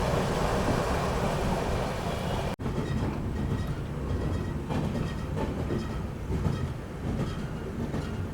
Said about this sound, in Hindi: हमारी ट्रेन पहुँच चुकी है अम्बाला शहर रेलवे स्टेशन